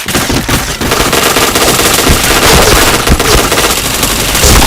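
Loud, continuous rapid-fire automatic gunfire from a shooting video game, dense and unbroken throughout, with no voices over it.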